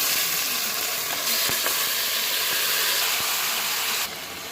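Duck meat fries in a wok over onions, producing a dense, continuous close-up sizzle that stays loud throughout and thins slightly at the very end.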